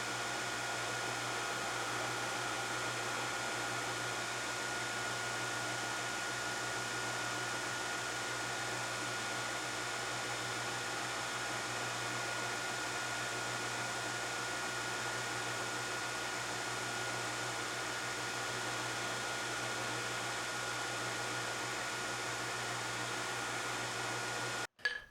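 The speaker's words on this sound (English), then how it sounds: "Here I'm using a 3/4 inch radius grinding wheel to grind the choils and the backside of" A 3/4 inch radius grinding wheel shapes the choils and guard on a steel boot knife blank, giving a steady, unbroken whirring grind that stays even and fairly loud for the whole stretch before cutting off abruptly at the end.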